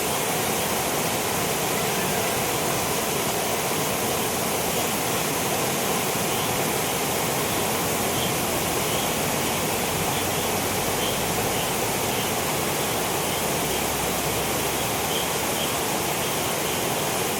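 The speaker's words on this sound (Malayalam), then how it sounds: "ഇത് റോഡ് സൈഡിൽ നിന്നാൽ തന്നെ കാണാൻ സാധിക്കുന്ന ചെറിയ തോടിൻ്റെ വെള്ളച്ചാട്ടമാണ്" A small roadside stream waterfall near Athirappilly pours in the monsoon, a continuous broadband rush of falling water that stays even and loud throughout, with no voices.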